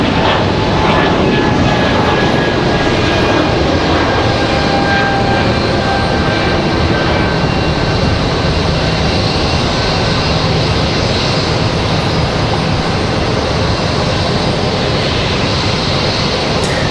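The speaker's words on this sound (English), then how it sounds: "Breeze Airways out of here." Breeze Airways airliner departing from Raleigh-Durham airport, a loud, continuous jet engine roar that holds steady throughout, close by with no talk.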